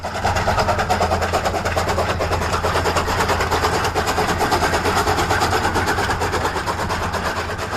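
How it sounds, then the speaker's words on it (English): Steam tank engine Thomas runs past a farm signal on a model railway, giving a steady loud mechanical drone with rapid rhythmic chuffing that holds evenly throughout, no voices. "Thomas, the world-famous tank engine himself, runs by a farm signal"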